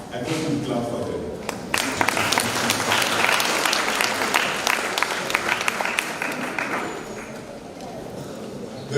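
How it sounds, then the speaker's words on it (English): An audience at a Riara Springs Primary School Class 8 meeting claps in sustained applause for the pupils, with many hands close and crisp, while a speaker's voice continues over the clapping. "I want to clap for them."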